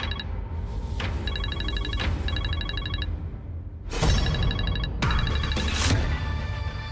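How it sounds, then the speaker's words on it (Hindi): Telephone ringing late at night, repeated trilling rings in short bursts with brief gaps, fairly clear, joined partway through by dramatic swelling music and whooshing hits. "इतनी रात को किसका फोन है?"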